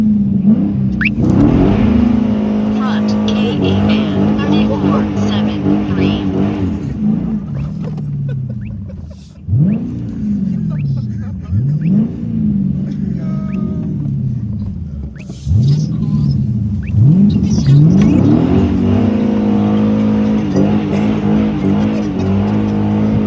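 A dark gray RS car revs hard and slides, its loud engine rising and falling in repeated surging sweeps with tire squeal, dipping briefly twice before roaring back, continuous and close throughout.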